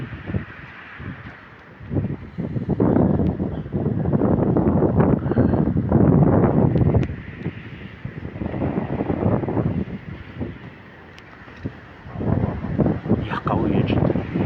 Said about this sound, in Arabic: رياح قوية جدا.